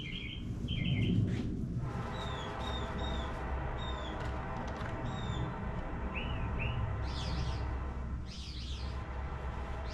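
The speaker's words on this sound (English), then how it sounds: "them birds are going nuts today" Several small birds chirp and tweet outdoors in short repeated calls and brief trills over a low steady background hum, moderately close and clear.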